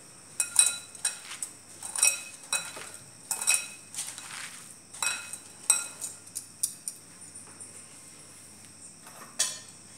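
A spoon clinks and scrapes against a pan while cumin powder and red chili are mixed for a mixed-vegetable malai kofta curry: a series of sharp, close metallic taps in an uneven rhythm, with no talking.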